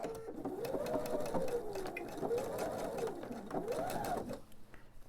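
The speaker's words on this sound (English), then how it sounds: "And sew these two ends together." A domestic sewing machine stitches the two ends of a quilt's binding together, its motor whirring steadily with rising and falling speed through several close, fairly loud runs before easing off near the end.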